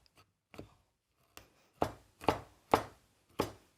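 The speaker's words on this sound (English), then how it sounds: "I'm just using a larger knife to actually just cut this a bit more finely." Large knife chopping broccoliflower leaves finely on a board, a series of about seven crisp, close thuds, sparse at first and then coming in a quicker, steady rhythm, with no talking.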